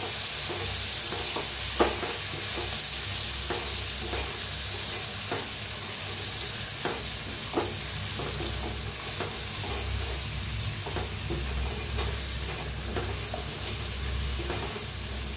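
Stuffed ridge gourd being stirred in a frying pan, a steady loud sizzle of hot oil throughout with soft regular scraping strokes of a spatula, close by and alone.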